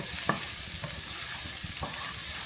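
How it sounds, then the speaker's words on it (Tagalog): Garlic sautés in olive oil in a clay pot, a steady soft sizzle with occasional light stirring clicks, close and alone without talk. "igigisa muna natin yung ating bawang"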